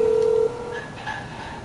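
A phone is dialed in the video game GTA: one clear, sustained keypad tone, followed by a few faint short beeps over a low background hum.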